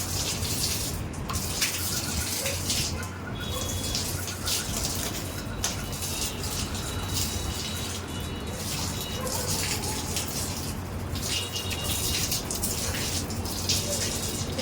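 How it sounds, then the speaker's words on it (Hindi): Cold tap water runs in a continuous splashing gush while someone washes their face, with a few irregular spatters over the flow. "तो यहाँ मैं मुँह धो रही थी मेरा।"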